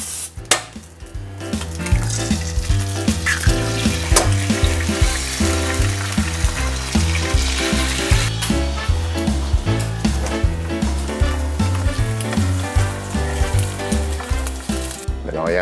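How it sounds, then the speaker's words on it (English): Eggs fry in a pan for avocado toast, a loud continuous sizzle with crackling spits and occasional clinks running steadily throughout. "Next, fry the eggs."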